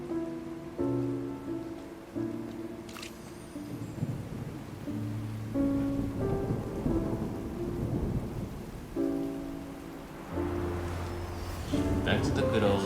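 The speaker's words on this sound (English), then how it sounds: "It's raining!" Rain falling during gameplay in Genshin Impact, a soft continuous hiss under background music, with occasional short effects and a brief rumble.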